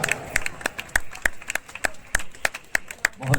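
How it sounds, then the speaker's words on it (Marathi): An audience at a bodybuilding competition claps in a quick, fairly regular rhythm, with sharp separate claps rather than a dense roar, heard alone for a few seconds. "जोरदार टाळ्या"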